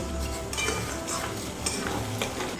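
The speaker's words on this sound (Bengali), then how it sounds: "এই মশলার সঙ্গে আলুটা আবারও খুব ভালো করে কষিয়ে নিতে হবে" Potatoes sautéing with masala in a pan for chicken curry, a close dense sizzle with scraping stirs and a few louder spatula strokes over a short stretch.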